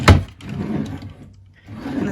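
A deep drawer in a house slides open with a short wooden thunk at the start, followed by a soft rumbling slide that fades and returns, close and fairly loud with no talking.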